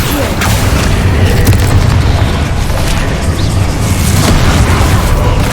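Explosive spell blasts from the Hogwarts Legacy video game, a loud, continuous barrage of booming bursts with heavy low rumble and crackling impacts layered throughout combat.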